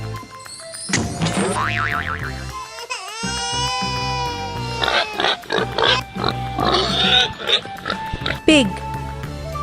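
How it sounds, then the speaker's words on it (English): Pig oinks and squeals ring out repeatedly at close range over cheerful children's music with springy boing effects, short grunting bursts coming in a choppy rhythm. "Pig."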